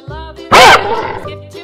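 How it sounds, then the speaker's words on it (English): A striped hyena gives a short, loud, harsh call that bursts out abruptly and then trails off, heard close and on its own. "Striped hyena."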